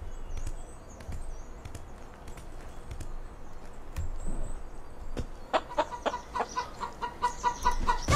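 Chickens cluck in the Bear Simulator video game, with scattered short clucks at first and then a faster run of rhythmic clucks toward the end, amid a low background rumble and no talking.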